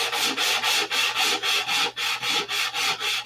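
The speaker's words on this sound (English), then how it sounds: "you have to sand out all those shiny spots" A small hand-held sanding block scrubs back and forth over painted metal to knock down shiny low spots, a close, rhythmic rasping of about a dozen even strokes with no talk.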